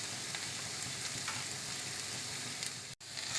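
Instant dosa batter with a spoonful of sugar, salt and chopped coriander is stirred in a bowl, giving a steady wet, hissing swish for a few seconds with no talking.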